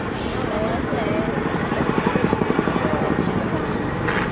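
A Boeing CH-47 Chinook twin-rotor helicopter flies a demonstration at the Farnborough International Airshow, its rumbling engines and a rhythmic blade thump rising midway, heard at a distance under a commentator's voice.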